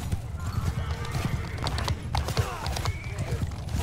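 A huge cavalry charge thunders through a Mount & Blade II: Bannerlord battle, rapid overlapping hoofbeats with several horses neighing above the din, loud and close with constant battle clatter.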